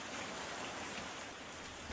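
Heavy rain pours as a dense, steady hiss with no breaks, faint and distant, with no voices.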